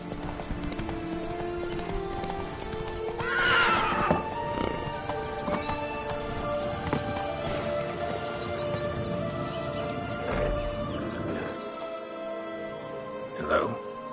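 Roach the horse in Witcher 3 trotting with steady clip-clop hoofbeats and a neigh rising mid-way, close and clear over ambient game sound, with spoken dialogue around it.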